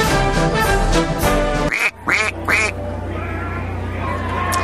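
A duck quacking sound effect plays on a news broadcast, a few loud nasal quacks in quick succession cutting into music, followed by a low steady hum.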